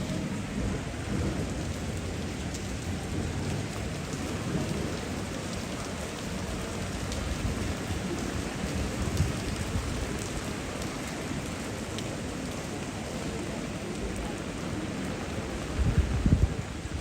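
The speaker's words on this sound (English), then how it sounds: "It rains the entire day, just like New York." Steady rain falls through the historic center of Genoa, a dense, even hiss of drops on streets and surfaces, with a low rumble and a few heavier splashes near the end.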